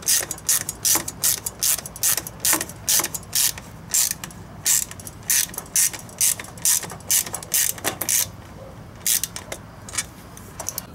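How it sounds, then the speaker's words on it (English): A ratchet tightens hose clamps on turbo intercooler piping during a turbo kit install, giving close, rapid clicking bursts in a steady rhythm of short strokes with brief pauses. "I tightened down the clamps, and we are good to go."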